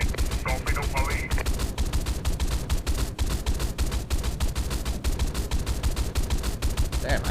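Naval gunfire from warships in a video game rattles in rapid, continuous bursts, dense and loud throughout, with a voice briefly talking over the shooting near the start.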